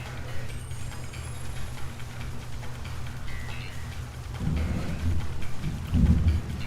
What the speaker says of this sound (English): ooh, that thunder is loud.